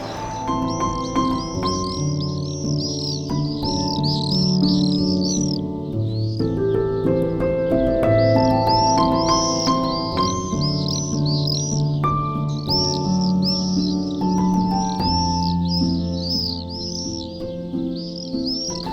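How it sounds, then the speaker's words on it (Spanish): Swallows and house martins twitter in a busy chorus of quick high chirps, close and lively, layered over steady melodic music throughout. "no hay mejor insectívoro que estas aves, los aviones, las golondrinas y los murciélagos"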